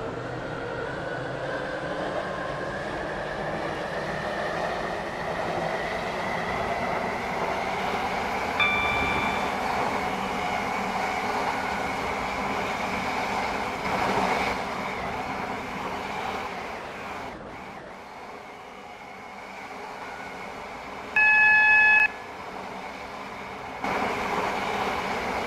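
A Class 345 train on a 2022 9X04 AirLink service to Airport Terminal 2 in the Roblox SCR game runs with a steady, continuous rumble, joined near the end by a few brief electronic tones.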